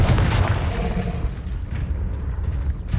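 A Confringo explosive spell blast in Hogwarts Legacy, a loud booming burst at the start with a rumbling tail and further dull impacts, no talking.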